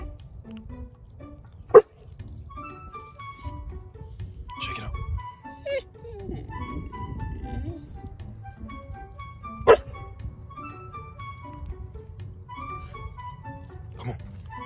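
A five-month-old Cane Corso puppy gives a few sharp, loud barks spaced several seconds apart, with softer yips and whines between, over low background rumble.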